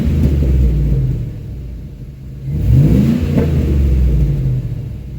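A 2004 Buick Rainier SUV engine revs up and settles back, a deep rumbling roar with a brief rise in pitch, booming close in an echoing garage.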